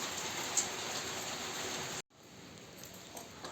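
Steady rain pours in a tea garden in Dehradun, a dense even hiss close to the listener that cuts out briefly, then resumes slightly quieter with scattered louder drops.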